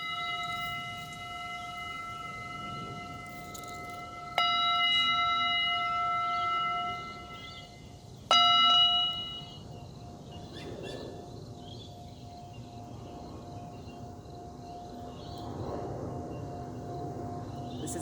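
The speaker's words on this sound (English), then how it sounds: "Tibetan bowl." A Tibetan singing bowl rings with a steady sustained tone, struck again twice so the bright ringing swells and slowly decays, heard alone in a quiet room.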